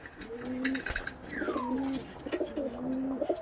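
Pigeons in a loft during a paratyphoid outbreak and moult give soft, repeated cooing calls in several rolling phrases, fairly close and clear against a faint background hiss.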